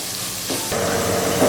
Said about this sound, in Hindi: इसको हमने फ्राई करना है अंजल, इतना हमने फ्राई करना है कि इसका कलर चेंज ना हो